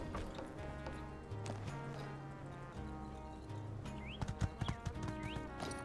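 A horse in the video game My Time at Sandrock, with steady clip-clop hoofbeats over a looping musical backdrop and a short neigh near the end.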